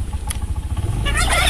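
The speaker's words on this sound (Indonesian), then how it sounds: "Tapi ayam kalkun beda lah suaranya." A rapid warbling gobble from a turkey in a village in Tangerang, Banten, rises near the end over a low, rumbling engine-like background.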